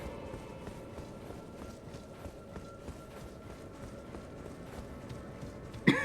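Hooves of a summoned horse in the video game Elden Ring, a steady running clip-clop that carries through the whole stretch at moderate level, with a brief sharper knock near the end.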